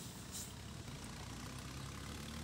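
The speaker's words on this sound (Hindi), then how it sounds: "और ये देखो पूरी रेस दे दी" Tractor engine at full throttle in Farming Simulator 20, pulling a fully loaded trolley uphill: a steady, dense, low mechanical drone that runs unbroken and even throughout.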